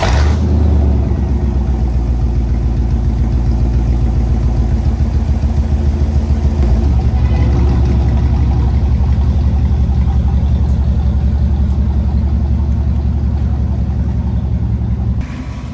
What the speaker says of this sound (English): So first, start up with the True Dual ZL1 tipped exhaust.